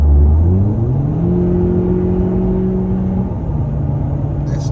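A 2019 Toyota Camry with a Magnaflow cat-back exhaust revs up under acceleration, a loud low drone climbing in pitch then settling, with road rumble underneath.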